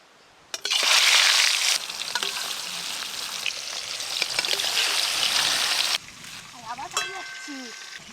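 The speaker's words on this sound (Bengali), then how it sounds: "এবার আমি মাছগুলো ভালো করে ভেজে নেব।" Fish frying in oil for a Bengali meal, a loud dense sizzle that bursts in after a half-second and holds steady for about five seconds before dropping to a quieter crackle with a few clinks.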